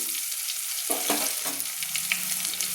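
Crushed peeled garlic sizzles in a hot pan while being stirred, a steady frying hiss broken by several scraping stirs near the middle, close and fairly quiet.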